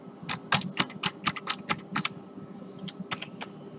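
Key presses on a computer keyboard while entering a Linux kickstart boot command at a CentOS 7 install screen: a quick run of separate clicky taps at close range, pausing briefly, then a few more taps, with no talk.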